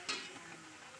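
Rice papad frying in hot oil gives a quiet, steady sizzle, opened by a single short scrape of stirring near the start.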